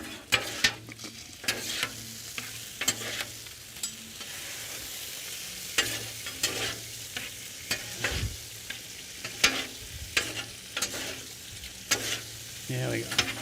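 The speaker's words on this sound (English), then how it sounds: "Grab the other spatula, mix it all in there." Chicken stir fry with noodles sizzling on a flat griddle while two spatulas mix it, sharp metallic scrapes and clacks popping out over a quiet steady sizzle.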